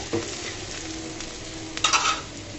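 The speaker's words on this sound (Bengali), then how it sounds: "একটু লাল লাল করে ভেজে নিয়েছি বেরেস্তার মতো করে" Sliced onions fried reddish-brown and crisp in a pan sizzle steadily while a utensil scrapes and stirs, with a louder scraping burst near the end.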